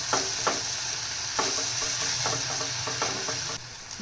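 Masala for dry shrimp chutney frying in a pan, with a steady close sizzle under repeated scraping stirs of a spoon at an uneven rhythm, no voices.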